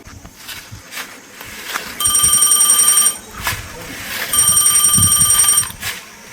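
A telephone ringing indoors in two bursts of rapid electronic trilling, each lasting about a second, with footsteps and movement between the rings.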